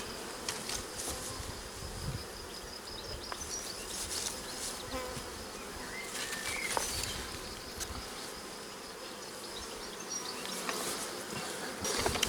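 Many honeybees buzz continuously around a hive, a dense, steady drone with individual bees flying close past now and then.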